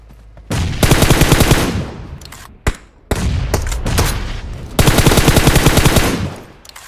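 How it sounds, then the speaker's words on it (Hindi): Heavy automatic gunfire comes from several directions in a PUBG Mobile match, with loud sustained bursts of rapid shots broken by a short pause and a single sharp bang, then a long final burst. "अलग अलग जगह से फायरिंग आ रहा था।"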